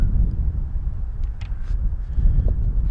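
Low rumbling wind buffets the microphone in uneven gusts on top of a rock at Spahn Ranch, with a few faint, brief sounds in the background.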